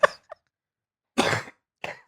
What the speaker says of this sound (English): I'm so angry I coughed.